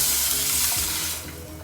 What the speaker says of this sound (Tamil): இப்போ நம்ம அந்த புளி தண்ணியை சேர்த்துடலாம்.